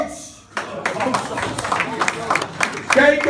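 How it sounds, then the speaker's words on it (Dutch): Scattered clapping rises from a small audience in a hall for a performer, picking up into a few seconds of applause with voices talking over it. "Heet hem een hartelijk applaus."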